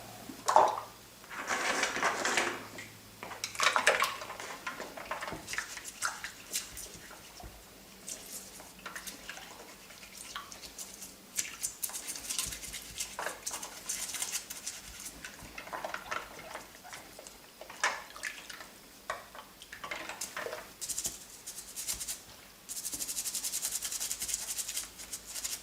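A vintage Action Man deep sea diver toy is washed in water, with soft rubbing, scrubbing and dripping, plus occasional light ticks and splashes, close and quiet, with no talking.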